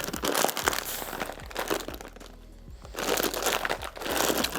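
Loud, repeated crinkling of a plastic packet of dried bread snacks, with bursts of crackling handling noise and a brief quieter pause in the middle.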